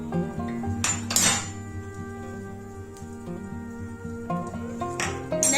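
Egg yolks being spread around a pan for an omelette, close metallic clinks and scrapes of a utensil against the pan in irregular bursts, over a faint tonal hum.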